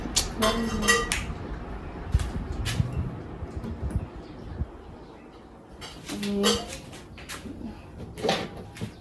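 Dishes are washed by hand in a household kitchen, with scattered clinks and clatters of pots and utensils, some near and some softer, in a quiet room with faint background sounds.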